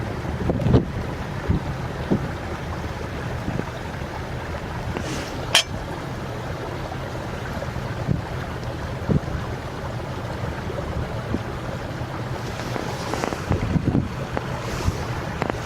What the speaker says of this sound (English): the wind snuffed it out